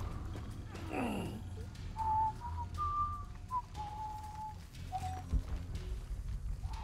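A series of short whistled notes at varying pitches from a character in Shadow of the Tomb Raider, tuneful and clear, over a low background rumble with a brief swooping cry near the start.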